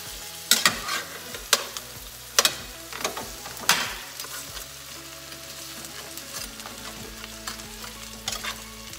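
Cooked, already orange-red Dungeness crab pieces stir-fried with ginger and scallion in a wok, sizzling steadily with repeated loud clanks and scrapes of the spatula stirring the shells, heard alone without talk.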